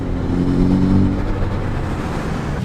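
A Mini John Cooper Works GP engine with a Venturi intake system revs loudly and steadily, a deep throaty rumble with a rising growl early on, close by and continuous throughout.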